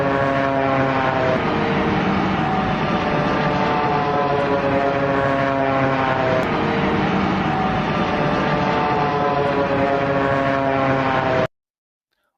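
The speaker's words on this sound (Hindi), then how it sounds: "एक जापान एयरलाइन का विमान इसी तरह की आवाज के साथ लैंड हुआ था, और उसमें भी रैम एयर टरबाइन खुला हुआ था।" A Japan Airlines airliner landing with its ram air turbine deployed gives a loud, continuous roar with a steady propeller-like whine and drone, unbroken for about eleven seconds before cutting off abruptly.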